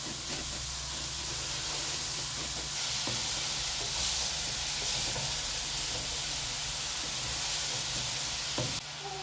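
Cabbage frying in oil in a pan, a steady broad sizzle and hiss with occasional soft scrapes and clicks from stirring. The sound holds at an even level throughout, and no one talks.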